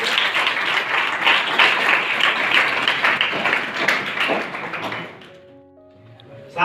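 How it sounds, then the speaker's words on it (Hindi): An audience at a college career guidance event gives loud, sustained applause for students announced as prize winners, the clapping fading out near the end into a quiet room with faint tones. "किसका? जोरदार तालियों के साथ।"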